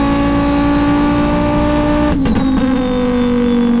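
A modified race car engine idles steadily and loud, with a brief blip of revs partway through before settling back to a rough, even idle.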